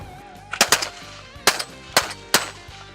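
Shotgun blasts fired at high-flying pintail ducks during a waterfowl hunt, several sharp loud reports in quick pairs and singles, with geese or ducks calling faintly in the background.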